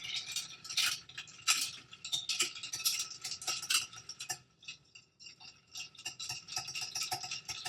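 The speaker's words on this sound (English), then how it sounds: "Now we stir this." A bar spoon stirs a St. Patrick's Day cocktail in a mixing glass, producing a steady close rattle of ice clinking and swirling with a short pause midway, without talk.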